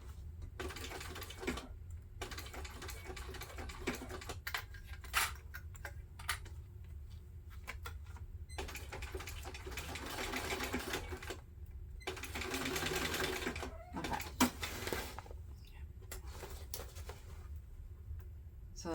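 A sewing machine bastes backpack fabric at a long 4.5 stitch length, running in several bursts of rapid mechanical ticking separated by short pauses, with a low steady motor hum throughout and no talking.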